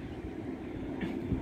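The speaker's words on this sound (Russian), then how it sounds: "поезд, вы видели, вот идет он" A low rumbling of a train passing at a distance, steady and muffled, with wind noise over it.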